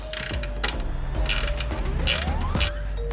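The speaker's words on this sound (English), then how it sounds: "we've just attached the bracket on the inside of the subframe, just a 10mm nut. So we'll just tighten that down" A ratchet tightens a 10mm nut on a subframe bracket of an R33 Skyline, giving loud, close clicking bursts in quick runs with short pauses between strokes.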